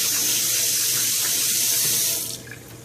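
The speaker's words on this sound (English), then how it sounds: "So now that my hand is washed" A hand being washed under a running kitchen tap while cooking brown rice, a steady close hiss of water that stops near the end, leaving a faint quieter tail.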